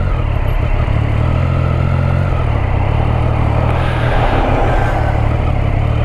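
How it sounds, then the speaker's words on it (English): Rush hour road traffic heading into Burton-on-Trent, heard from a motorcycle: a steady, loud, continuous rumble of engines and tyre noise that holds level throughout with no talking. "Traffic going into Burton-on-Trent, rush hour."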